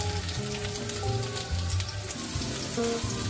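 Chopped onion and green chillies fry in a pan with a constant, fairly loud sizzle and crackle, with low tonal hum beneath and no speech.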